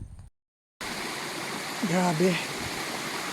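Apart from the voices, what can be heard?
mountain stream water flowing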